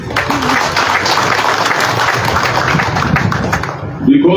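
Crowd applauding at a political party gathering, a dense, loud, sustained wash of clapping that carries on for several seconds before a voice breaks in at the end.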